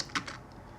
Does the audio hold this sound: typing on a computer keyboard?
yes